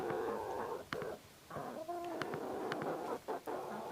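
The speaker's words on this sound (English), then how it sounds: "I got some chickens walking around here." Chickens walking around nearby cluck in short, soft bursts, a few close low calls and clucks scattered over several seconds with small clicks between them.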